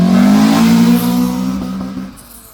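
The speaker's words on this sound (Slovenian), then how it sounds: "Jedini auto koji se čuje motor, a ne auspuh" A car engine revs loudly and steadily, holding a strong droning tone before easing off near the end, heard up close with no talking over it.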